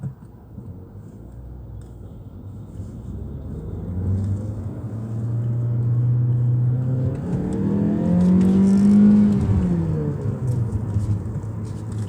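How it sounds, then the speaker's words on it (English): A Mazda 3 2-litre mild hybrid hatchback engine revs smoothly from a low hum up to a higher, steady whine, then eases back down, heard from inside the car. "A smooth revving 2 litre engine nonetheless, even though it's not madly powerful."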